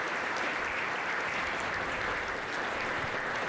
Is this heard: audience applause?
yes